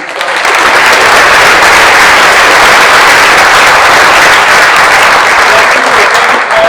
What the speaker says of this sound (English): One last round of applause for all of our academic awards.